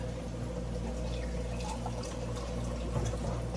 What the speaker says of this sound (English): pour me some tea out here in a coffee cup